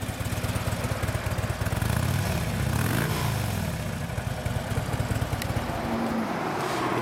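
A Harley-Davidson Road King FLHR with a 103 engine and 16,200 miles runs steadily, its loud, close, throbbing exhaust rumble continuous throughout with no talk.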